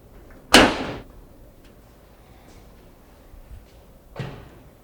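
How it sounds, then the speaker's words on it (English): Metal cabinet door with a spring-loaded hinge pushed into place, giving one sharp, loud metallic clack, then faint small handling taps and a softer thud near the end. "And then this is spring loaded. Just push that down with your finger."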